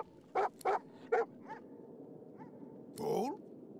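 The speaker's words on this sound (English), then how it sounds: "Bruno barks." Bruno the dog in Divinity Original Sin 2 gives three quick, close barks in a row, then a small whimper and a faint yip, followed by a longer, whining vocal sound over a low ambient game background.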